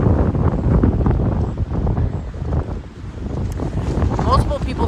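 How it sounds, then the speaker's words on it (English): Strong wind buffets the microphone in a constant loud roar with gusty surges, rumbling low and steady throughout. "It is so windy."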